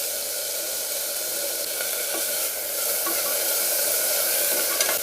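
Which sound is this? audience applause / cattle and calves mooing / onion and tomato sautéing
onion and tomato sautéing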